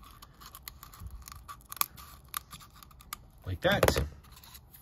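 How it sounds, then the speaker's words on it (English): Scissors trim a round hole in a miniature paper mache lantern formed over a balloon, making a series of quiet, close snips and rustles. A short spoken remark comes near the end. "I just take some scissors, you can use smaller ones if you like, and trim a hole that is the size to my liking"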